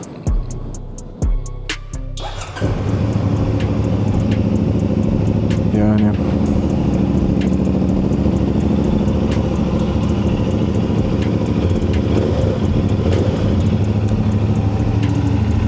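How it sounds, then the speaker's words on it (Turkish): A 450SR motorcycle engine cranks and fires up after a few clicks, then settles into a steady, loud, rumbling idle that runs on. "Hemen bir kontak yapalım abi. Çalıştıralım arkadaşı."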